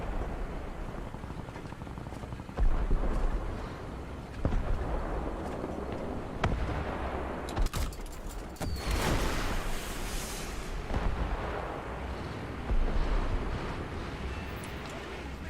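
Muffled explosions and gunfire thud and crackle through a busy War Thunder battle as a helicopter is shot down, with repeated heavy bursts rising over a constant rumbling background.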